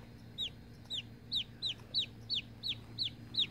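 A chicken named Kkokko gives a steady run of about ten short, evenly spaced chirping clucks, fairly close and alone over a low background hum.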